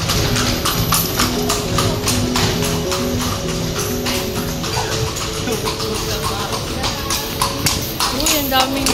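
Horses clip-clop along a road in Vigan, Ilocos Sur, a dense run of hoof clacks close by and fairly loud, mixed with voices and street noise.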